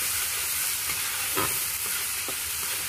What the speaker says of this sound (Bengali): এবার এটাকে ভালো করে একটু ভেজে নেব